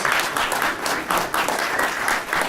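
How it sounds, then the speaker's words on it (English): An indoor audience at an annual kickoff celebration claps in a dense, sustained round of applause, the loud patter swelling and easing in waves throughout. "Let's give Jerry a great round of applause."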